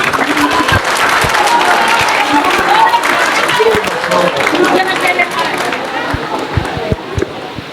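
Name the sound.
applause for graduates at graduation ceremony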